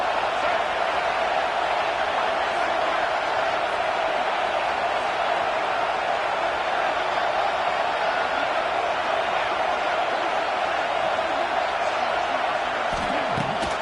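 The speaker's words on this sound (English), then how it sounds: "Decibels rising as the crowd gets behind this defense on third down." A stadium crowd at a college football game between FSU and UF roars in a sustained, dense wall of cheering and noise on a defensive third down, steady and loud throughout without clear speech.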